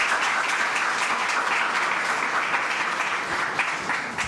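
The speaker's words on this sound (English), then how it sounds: "Let's give them a round of applause." Sustained audience applause at a press announcement in the New York Transit Museum, a dense, even wash of clapping that stays steady throughout and eases slightly at the end.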